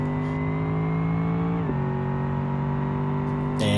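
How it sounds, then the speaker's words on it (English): A Bruckell Moonhawk in BeamNG launches hard on 300 kW of nitrous, its engine a loud, steady close-up drone that drops in pitch at a gear change midway, then climbs and snarls again. "We add another 100 kW nitrous to a total of 300 and let it rip."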